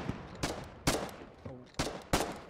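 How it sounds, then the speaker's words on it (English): Gunfire in the war game Foxhole, heard as four loud, sharp shots spaced roughly half a second apart, with a short low rumble between them and no talking. "Covering fire! Brothers, covering fire!"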